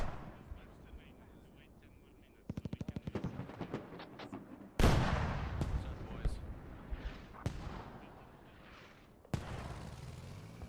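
Airstrikes and gunfire in the military shooter Squad: a loud blast hits partway through, followed by rapid bursts of shots and further heavy impacts, with distant rumbling battle noise throughout.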